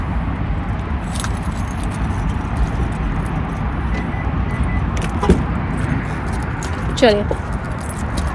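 Keys jingle and a car is unlocked and opened, soft metallic rattles and a few clicks under a steady outdoor wash, with someone speaking briefly nearby.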